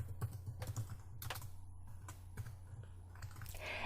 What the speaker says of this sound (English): I'll click once, and I'll start to type.